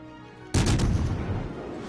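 The warship Nuremberg fires its guns in a naval battle in World of Warships Legends, a single sudden loud blast after quiet, followed by a rumbling decay.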